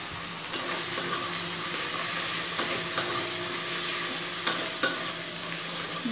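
Salt, cumin powder and turmeric powder being stirred and fried in a pan with ginger paste for Bengali potol chingri, a steady sizzle with a few sharp utensil knocks against the pan.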